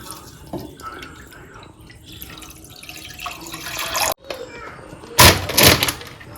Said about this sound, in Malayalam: അപ്പൊ ആദ്യം എനിക്ക് വെള്ളം ഒഴിക്കുന്നുണ്ട്.